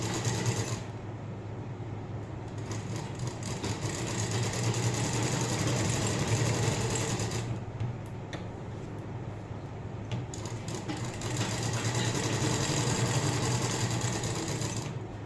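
A sewing machine stitches a blouse with a steady mechanical whirr that runs continuously for long stretches, close and fairly loud, pausing briefly a few times with no talking.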